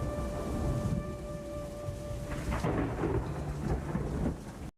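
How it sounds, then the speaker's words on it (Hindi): Heavy rain pouring down at night with deep rolling thunder, a dense continuous wash of falling water that swells and holds before cutting off abruptly. "रात गहरी हो गई और बारिश भी तेज हो गई।"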